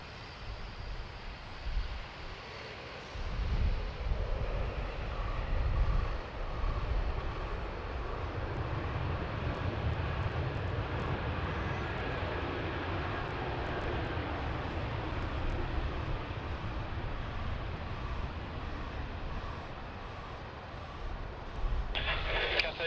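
A Jetstar passenger jet landing at Sydney Airport, a distant, steady engine roar that builds and lingers, heard alongside outdoor wind noise.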